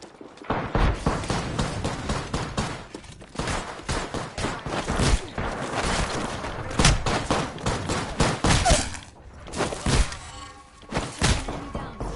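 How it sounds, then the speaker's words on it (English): A grenade blast and gunfire in a video game, heard as dense overlapping shots and heavy thuds that run almost continuously, with brief dips between bursts. "Throwing a grenade."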